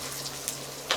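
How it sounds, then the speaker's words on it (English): Krill and flour fritter batter for Pikedel Grago fries in hot oil, a steady close sizzle with a couple of sharper pops and a faint hum beneath. "let it fry"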